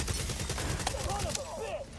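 Sustained automatic gunfire in a video game's Resurgence mode, a dense rapid rattle of shots continuing throughout, mixed with other game noise at moderate level.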